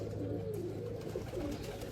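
Pigeons coo in soft, repeated rolling phrases, a steady murmuring chorus from birds close by with a constant low hum beneath.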